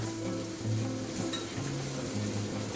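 Tofu sizzles and fries steadily in a pan while Pad Thai is being cooked, with a constant crackling hiss and a low hum beneath, no voices.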